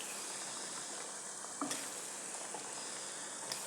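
Almonds frying in hot oil give a steady, close sizzle and hiss throughout, with a few faint stirring clicks and no voices.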